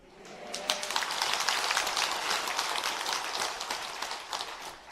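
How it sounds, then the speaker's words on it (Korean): An audience at a Buddhist temple sermon breaks into applause, a crackling wash of many hands that swells quickly, holds, then thins out into scattered claps over a few seconds. "박수 치는 거 훈련됐네"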